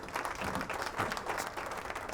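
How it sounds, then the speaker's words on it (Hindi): A small group claps continuously in an office setting, brisk dense hand claps with a slight crowd murmur, steady throughout the short burst. "लीजियांग, ताली तो बजाओ यार।"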